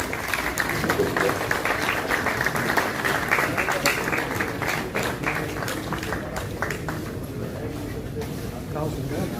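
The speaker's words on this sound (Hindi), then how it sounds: "आइए हम सब स्वागत करें जोरदार तालियों से।" An audience in a museum hall applauds steadily to welcome guests at a film event, dense clapping sustained for several seconds and slowly thinning toward the end, loud and close.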